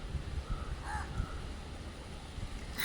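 Crows caw a few times at a distance, short hoarse calls over steady wind and rain-like background noise outdoors.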